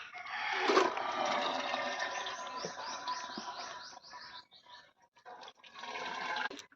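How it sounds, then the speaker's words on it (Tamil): Water drains through a perforated steel food plate, a rushing gurgling splash with bubbly chirping tones that thins into trickles and brief gaps before another burst near the end. "இந்த ஓட்டத்தட்டு இருக்கு இல்லைங்க அதில் தான் நான் சாப்பாடு தனியாக எடுத்து வைப்பேன் தண்ணியெல்லாம் கீழே இறங்கிரும்"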